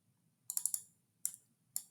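Mouse button clicks from a computer mouse, a quick burst of four sharp clicks followed by two single clicks, close and quiet over a faint low hum.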